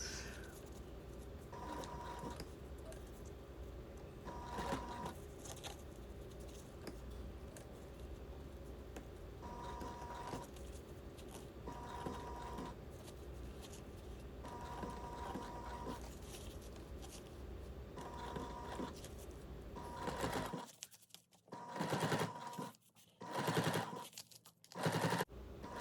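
A sewing machine stitches binding onto thick padded fabric for backpack straps, running in short slow bursts of rapid mechanical chatter separated by pauses, close and fairly quiet, with a few sharper knocking stretches near the end.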